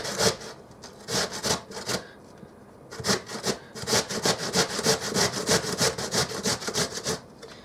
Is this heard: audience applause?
no